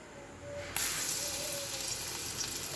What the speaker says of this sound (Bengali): ওই তেলটার মধ্যে একটু পেঁয়াজও কুচিয়ে নিয়েছি, একটু রসুন কুচি দেবো।